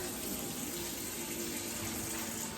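Tap water pours steadily into a cooking pot to boil spaghetti, a continuous close gushing rush.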